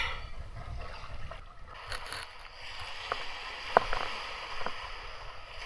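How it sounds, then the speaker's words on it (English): Paddle strokes dipping and splashing through open water off Ningaloo Reef, close by and fairly soft, with gurgling water between strokes and no voices. "I feel like I've been paddling in the same spot for like 2 hours."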